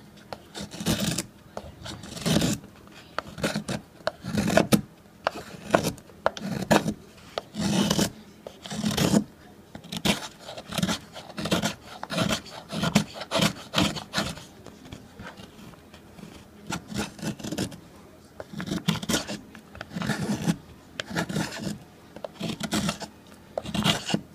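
A 3.25-inch Freeman outdoor gear 451 knife with S35VN blade shaves wood into tinder curls, producing repeated close rasping scrapes in an irregular rhythm, with brief pauses between strokes and occasional talk.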